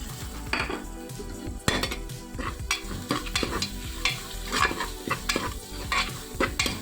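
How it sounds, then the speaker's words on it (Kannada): Green chillies fry for beetroot biryani while a metal spoon stirs and scrapes the pan, with an irregular clatter of utensil strikes over a constant loud sizzle, close up and without talk. "ಸೊ ಈಗ ಮೆಣಸಿನ್ಕಾಯಿ ಹಾಕಾದ ಮೇಲೆ ಸ್ವಲ್ಪ ಅದನ್ನು ಬಾಡಿಸ್ಬೇಕು"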